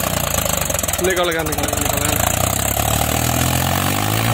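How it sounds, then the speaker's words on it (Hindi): Mahindra 265 DI tractor, 2021 model, pulling a heavily loaded trolley through wet mud, its engine chugging loudly and steadily nearby while someone briefly speaks. "ये देखो कितनी लीक काट के चल रहा ट्रैक्टर, नीचे को बैठता जा रहा।"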